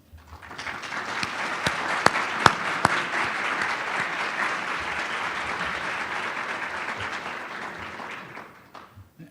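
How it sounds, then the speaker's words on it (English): An audience at an awards dinner applauds former scholars as they stand, a steady wash of clapping that swells, holds for several seconds and then fades out, with a few sharper individual claps. "if we could give them a round of applause as I ask them to stand"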